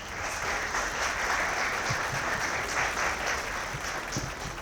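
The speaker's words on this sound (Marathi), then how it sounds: "सगळ्यांसाठी पुन्हा एकदा एक जोरदार टाळ्या होऊन जाऊ द्या" An audience at the Bola Marathi 2026 award ceremony claps loudly and continuously, a dense, steady wash of applause from many hands with no voices over it.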